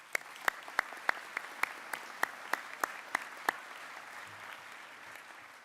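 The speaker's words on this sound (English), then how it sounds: "please join me in thanking them with applause." Audience at a medical school white coat ceremony clapping, about a dozen crisp, evenly spaced claps in a slow rhythm that then trail off into quiet room tone.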